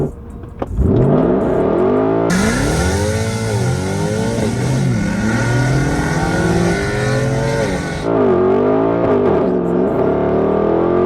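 A Mercedes-Benz C63 AMG accelerates hard down a straight, its engine climbing loudly through several gears with rising pitch sweeps and short dips at each shift, close up and continuous.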